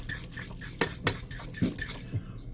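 Metal utensil scraping and clinking in a pan while stirring Mi ABC Street Noodles spicy sizzling beef stir fry, a steady run of close, sharp scrapes and taps with a few louder knocks.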